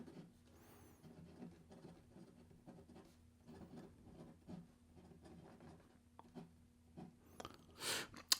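A Pilot Custom Heritage 912 fountain pen scratches softly across paper in short, quiet strokes with small pauses, ending in a brief louder rustle.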